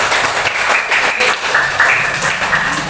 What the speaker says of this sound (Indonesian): beri tepuk tangan untuk Andrean